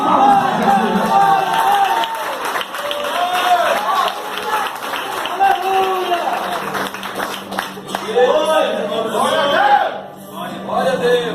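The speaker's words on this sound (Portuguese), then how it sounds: "Quem pode dar uma salva de palmas para Jesus?" Church congregation clapping and cheering for Jesus during a sermon, a loud, continuous crowd roar with mixed voices and applause, tapering briefly near the end.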